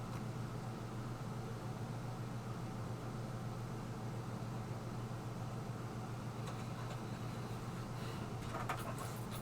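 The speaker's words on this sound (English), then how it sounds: "I like the AC white noise." Air conditioning hums as a steady, faint white-noise hiss with a low mechanical drone, unbroken throughout, with a few light clicks and rustles near the end.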